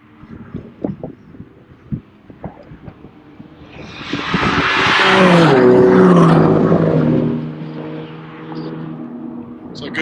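Race cars at a track approach down the straight, engine roar swelling loudly as one passes close by with a falling pitch sweep, then fading into distant engine noise, after faint background clatter.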